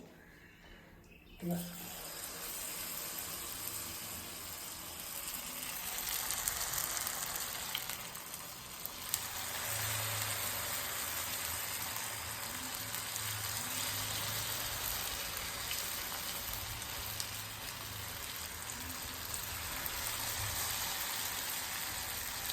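Onion vada batter dropped into hot oil, a sudden splash and then loud, continuous bubbling sizzle that persists close-up, with someone talking intermittently over it.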